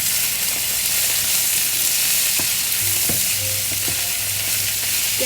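A breakfast skillet sizzles steadily in a pan while it is stirred, with a few scraping clicks from the utensil. The frying hiss is continuous, close and fairly loud, with no one talking.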